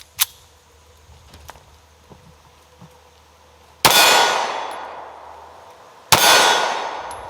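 Two sharp, loud shots from a SIG 365 pistol a couple of seconds apart, each with a long ringing echo at close range, after a few faint handling clicks.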